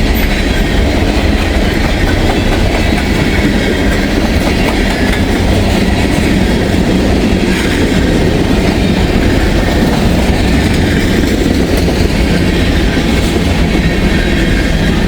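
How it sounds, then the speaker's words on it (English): A CSX freight train led by two Canadian National locomotives rolls past close by in a loud, continuous roar of wheels and engines that holds steady throughout, with no voices. "there's a CSX train with two Canadian National locomotives on it, headed this way"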